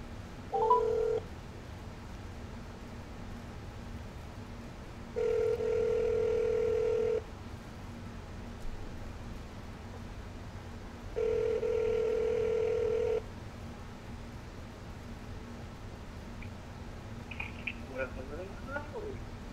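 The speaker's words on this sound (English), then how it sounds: "Let me call Mr. LeBrant" Several long electronic phone tones sound in turn, with pauses between them, over faint background hiss and a brief burst of voice near the end.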